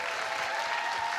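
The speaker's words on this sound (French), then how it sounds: "Je voudrais qu'on applaudisse toute l'équipe de Black Bloc." Audience applause at a French film event saluting a production crew, a steady dense wash of clapping throughout with no pauses.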